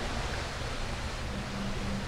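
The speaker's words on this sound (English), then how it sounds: "over the sound of all this water" Steady, rushing water in the City of Heroes video game forms an even wash of noise that fills the whole clip, with no break and no voices.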